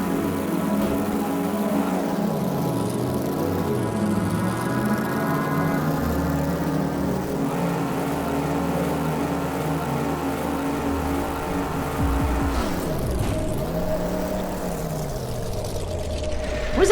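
A car engine in the game Pudgeworld hums steadily at close range, its tone rising and sagging as the vehicle climbs and lands, ending with a sharp revving swoop.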